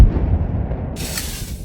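A bloated camel carcass bursting as an explosion effect: a deep, loud rumbling boom that rolls on for well over a second, with a sharper crackling burst layered in partway through.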